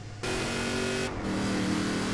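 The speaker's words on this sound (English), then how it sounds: "3/4 ton truck tearing through the countryside" A 3/4 ton truck engine drives in Forza Horizon 4, a loud, steady revving drone with a brief dip near the one-second mark before the engine note climbs again.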